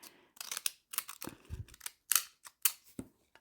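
Cheap scissors bought from Temu cutting through material, a series of irregular close snips and crisp clicks with short pauses between cuts.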